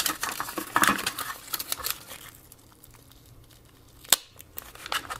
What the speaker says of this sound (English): This is the these are the actual contacts themselves that get pressed together. I peel this apart.